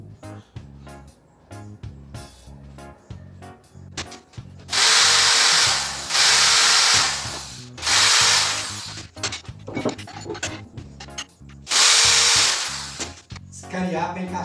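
A power drill bores a screw hole through scrap metal with an oiled bit for a homemade gate latch, whining loudly in three sustained bursts separated by quieter clanks and handling noises.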